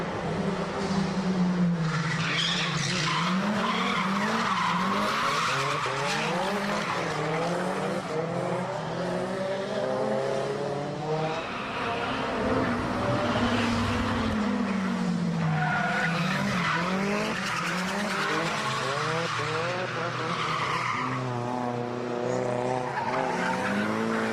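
Drifting cars slide along a touge road lined with concrete walls, their tires squealing loudly in long, repeated wavering howls over engine revs as the cars sweep past one after another.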